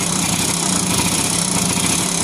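A Honda RS100 motorcycle engine runs steadily at close range during a stator and full-wave wiring test, giving a loud, even mechanical drone with no voices over it.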